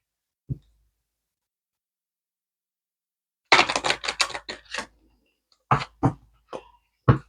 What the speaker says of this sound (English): I did pre-shuffle these cards, so I'm just giving them a little light shuffle before we get started.